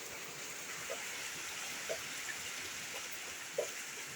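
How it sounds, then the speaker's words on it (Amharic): Rain falling at a family home, a soft, steady broadband hiss with a few faint drips standing out, distant and quiet throughout. "ከመምጣታችን ዝናብ ይዘን መጣን።"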